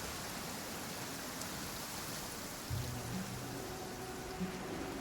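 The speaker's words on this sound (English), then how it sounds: "It always rains when I go on an adventure." Steady rain falls in a video game, a soft even hiss of drops throughout with a faint low thud partway and no voices.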